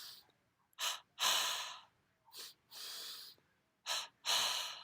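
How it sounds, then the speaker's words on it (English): Double breathing kriya exercise: two quick inhalations through the nose followed by two exhalations through the mouth, repeated in close, loud bursts of breath with short pauses between each pair. "how do we do the double breathing Kriya? Twice through the nose and twice through the mouth."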